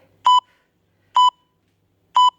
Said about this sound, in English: we're going to keep going till the beep